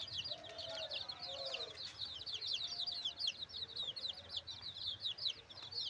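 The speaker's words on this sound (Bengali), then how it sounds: "এইখানেও এসে দেখি মুরগি বাচ্চা" Young chicks at a rural Bangladeshi home on a cloudy day give steady high, thin peeping calls that run without a break throughout, with faint low background sounds beneath.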